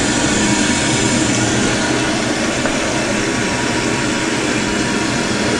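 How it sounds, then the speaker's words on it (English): A toilet tank refilling quickly through a newly installed fill valve, a loud, steady rushing hiss of water that holds evenly throughout, close and alone without talk. "it's filling up really fast now, just like it's supposed to"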